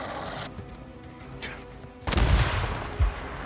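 A grenade blast in the video game Days Gone lands suddenly after a quieter stretch, a loud booming burst followed by rumbling debris and a second thud about a second later.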